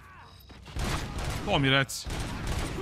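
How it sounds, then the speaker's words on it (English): Bursts of gunfire in the video game RoboCop: Rogue City, loud and rapid, cutting through game music and a voice talking over the action. "Konačno pucanje."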